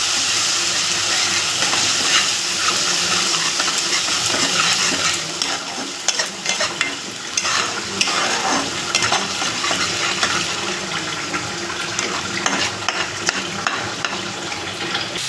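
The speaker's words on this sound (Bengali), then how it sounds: "বেটে রাখা যে মশলাটা সেটা দিয়ে এবারে নাড়াচাড়া করে বেটে রাখা টমেটো পিউরিটাও দিয়ে দেবো।" Ground spice paste with cumin sizzles and fries in a kadai while being stirred, a loud steady sizzle at first, then scraping, clattering stirring strokes over continued frying, no speech.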